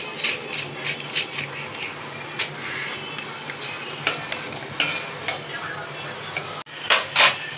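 Fennel seeds dry-roasting in a pan while homemade masala is prepared, heard as scattered light clinks and scraping taps of a utensil against metal, with brief louder rattles near the end.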